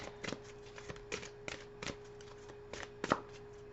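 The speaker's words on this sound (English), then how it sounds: "So we'll pull another card." Oracle cards are shuffled and drawn by hand during a reading, giving a quick run of soft riffling flicks and card snaps at close range, with one sharper slap near the end and a faint steady hum underneath.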